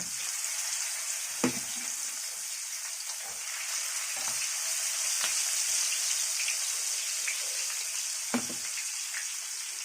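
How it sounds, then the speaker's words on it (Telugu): Fish fries in hot oil with a steady, close sizzle and crackle throughout, broken by a few soft knocks of utensils against the pan. "ఆయిల్ వేడెక్కిన తర్వాత చేపలు వేద్దాం. చేపలు వేస్తానండి ఫ్రైకి."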